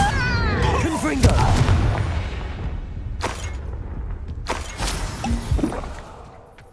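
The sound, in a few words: Confringo blasting spell explosion in video game Hogwarts Legacy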